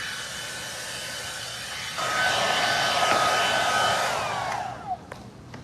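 Hair dryer blowing over a freshly milk-painted wooden chair, a steady airy whine that jumps louder when switched to a higher setting, then cuts off near the end.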